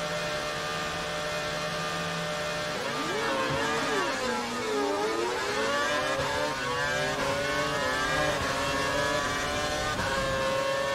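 A Formula 1 car in the F1 2012 game accelerates to overtake, its engine note climbing and swelling steadily from a constant mechanical hum into a loud, rising high-revving whine.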